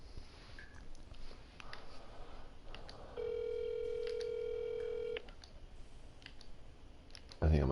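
Telephone keypad tones play in a video game before a call, a steady two-second dial tone block with clicks, loud over faint background speech and game sounds.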